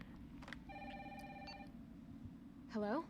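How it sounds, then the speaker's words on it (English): A telephone rings in the video game Resident Evil 3 Remake: one clear electronic ring burst over a steady low background rumble, followed by a brief voice near the end. "let's go pick up this phone."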